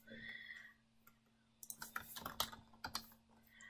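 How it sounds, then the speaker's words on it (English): Typing on a computer keyboard while writing HTML in a code editor: a faint hum, then a burst of quick, close key clicks in an uneven rhythm. "and I were to type something like hello"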